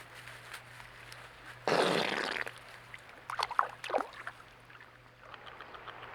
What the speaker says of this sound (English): Now you're going to hear the loudest fart ever.